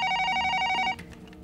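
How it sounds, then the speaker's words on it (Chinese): A telephone line rings after a call is dialed, a single steady electronic ring burst that cuts off abruptly, leaving quiet line noise. "这样，我打给我们传达室王大爷"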